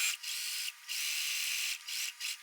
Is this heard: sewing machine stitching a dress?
yes